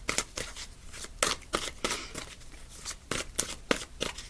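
Tarot cards being shuffled by hand, a quick run of soft, riffling flutters and taps in an irregular rhythm, close and quiet, with no talk.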